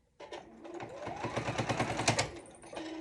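A sewing machine stitches binding onto a quilt, running in a steady fast mechanical chatter that rises and holds for a few seconds, close and loud with no talking.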